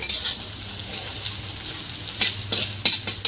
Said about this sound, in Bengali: এবার একটুখানি নেড়ে নেব তেলের সাথে।